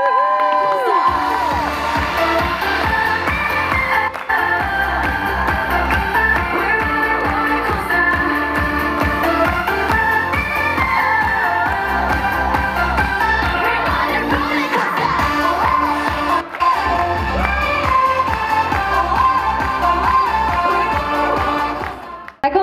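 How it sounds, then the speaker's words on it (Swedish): An audience at a school fashion show in a Tyresö shopping centre cheers, whoops and shouts for a model in a glittery dress and black trench coat, loud and continuous with music underneath, rising near the end. "En stor applåd för Shirin!"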